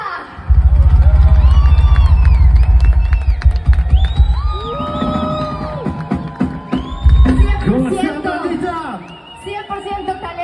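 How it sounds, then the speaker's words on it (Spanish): A live audience in a show venue in Tijuana cheers and whoops loudly for the first guest of the night, a dense crowd roar with shouted voices rising and falling over a low rumble, easing toward the end. "Un fuerte aplauso a nuestro primer invitado de la noche"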